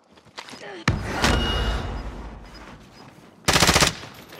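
Automatic gunfire rattles in Call of Duty: Modern Warfare, with a sharp opening shot, a sustained burst, a quieter stretch, then a second loud rapid burst near the end.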